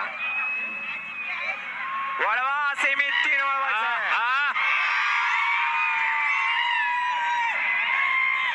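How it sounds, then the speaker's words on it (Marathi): Crowd cheering and celebrating at a bullock cart race semi-final, a loud, steady roar of spectators, with someone shouting excitedly over it partway through. "वरल्याने सुद्धा जल्लोष साजरा केला आणि खायल्याने सुद्धा जल्लोष साजरा केला"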